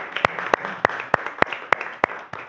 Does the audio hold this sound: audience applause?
yes